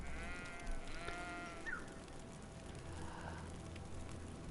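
Sheep in the video game Greedfall bleat a few times at moderate distance, wavering calls rising over a faint, steady game ambience with low rumbling underneath.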